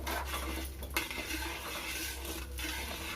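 A utensil stirring water and samba rava in a cooking pan for upma, with light scraping and clinking against the metal pan and a faint low hum beneath.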